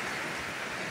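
Heavy rain pouring down hard just before an earthquake, a dense, steady roar of water with no breaks, loud and close.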